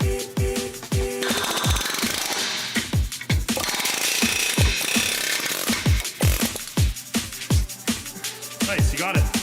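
Hammer blows ring out on a steel suspension bracket during a 3-inch Rough Country lift kit install on a Toyota Tacoma, about twenty sharp metallic strikes in a steady rhythm, loud and close over shop background noise.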